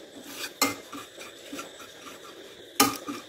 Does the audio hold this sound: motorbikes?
no